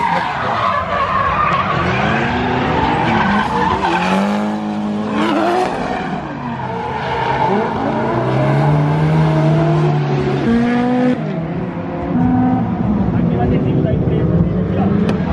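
Cars drift and race at Ebisu circuit, engines roaring and tires squealing in long, continuous waves of skidding, loud and near, with rising and falling revs throughout.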